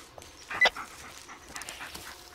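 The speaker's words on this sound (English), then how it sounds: "Listen to his barking and watch his body language." A dog in the Blair Witch video game gives short whimpering yips and soft barks, a quick cluster of close, mid-level canine calls over a quiet background.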